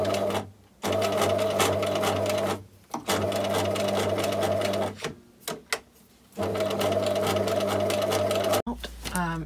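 A sewing machine stitches binding onto a vintage tweed jacket in several bursts of rapid, steady whirring separated by short pauses, close and loud, with a brief clunk near the end.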